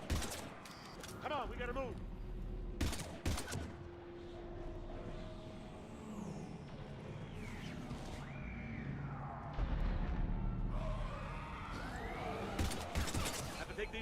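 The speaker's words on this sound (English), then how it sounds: "I've got Lieutenant Vega with me, but we're taking heavy fire." Heavy gunfire erupts in a Mass Effect 3 firefight: sharp loud bursts early on, then a steady dense clatter of weapons and battle noise, with voices speaking over the combat.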